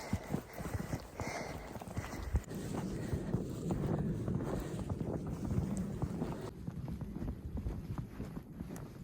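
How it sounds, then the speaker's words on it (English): Footsteps crunching along a snow-covered road on a winter day, steady walking paces close by with wind rushing over the microphone throughout. "So I'm walking the last little bit of the road."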